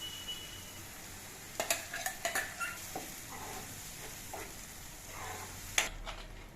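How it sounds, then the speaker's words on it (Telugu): Tomato puree poured into onions frying in a pan for paneer capsicum curry, a soft sizzle with a few sharp clinks and scrapes of a spoon against the pan, close and fairly quiet. "ఈ టమాటో ప్యూరీని ఇందులో వేసేయాలి."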